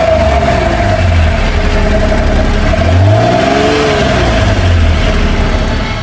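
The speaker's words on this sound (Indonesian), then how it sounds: "Honda memasang mesin V6 3000 cc yang berbahan aluminium yang dapat menghasilkan tenaga sebesar 270 HP dan suara yang sangat merdu dari knalpotnya" A Honda NSX with a 3000 cc aluminium V6, revving loudly through its exhaust: a close, sustained engine note rising and falling in pitch with smooth sweeps between idle and higher revs.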